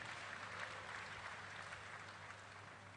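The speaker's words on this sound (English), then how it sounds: "Can we get a round of applause for Honorable Soraya?" Conference audience clapping for a speaker, a soft, distant, even patter of applause lasting a few seconds at low level.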